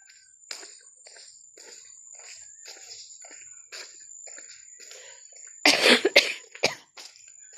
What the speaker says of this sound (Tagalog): Ano ubo guys?